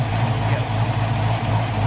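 Steady low rumble of a 1980 Trans Am engine idling with Holley Sniper fuel injection, an even, continuous drone with no revving, close and fairly loud.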